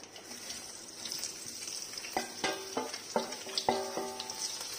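Onion, chilli and other aromatics sauté in hot oil for a Goan-style fish curry, a soft steady sizzle under a run of sharp utensil taps and scrapes against the pan, fairly quiet and close.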